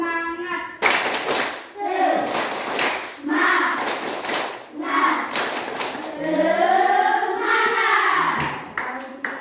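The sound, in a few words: classroom rhythmic clapping chant (tepuk semangat)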